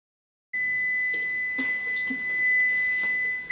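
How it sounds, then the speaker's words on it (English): A kitchen timer beeps steadily and insistently while jasmine rice cooks in a one-pan shrimp, black bean and rice skillet, a sustained electronic tone with faint kitchen clatter behind it. "Okay, so our timer just went off."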